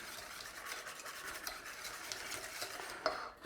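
An egg is beaten into a lemon curd mixture in a bowl, a quick, continuous scraping and whisking rhythm close up, ending with a small clink.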